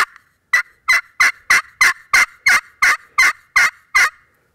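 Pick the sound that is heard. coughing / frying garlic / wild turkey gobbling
wild turkey gobbling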